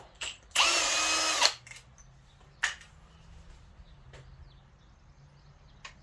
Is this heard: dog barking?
no